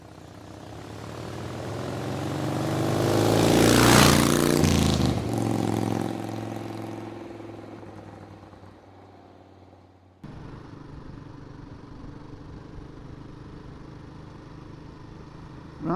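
A Royal Enfield Guerrilla 450 motorcycle rides along the road, its engine note swelling to a loud pass and then fading, followed by a steadier lower hum of riding with wind rush.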